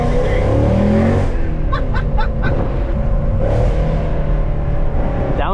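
Mercedes C63 AMG W204 engine revving through downshifts, a steady loud mechanical drone close by with a few quick sharp clicks and brief blips over the top.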